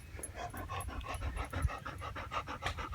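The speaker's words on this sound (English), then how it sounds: "Look at this fucking Sherpa, it's getting all excited" A small dog pants quickly and excitedly in a steady, rhythmic run of close breaths, alone and fairly quiet.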